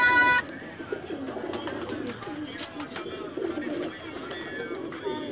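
Pigeons cooing softly in a loft, a steady low murmur of calls carrying through the whole stretch, with a short burst of higher chirping at the start and faint background voices.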